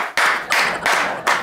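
Four sharp bursts of clapping from an audience, evenly spaced and close, each a quick flurry of hand claps.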